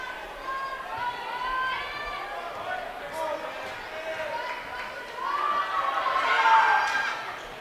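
Indoor crowd at a high school basketball game at Scottsbluff High, a steady murmur of chatter and shouts with sneaker squeaks, swelling louder near the end.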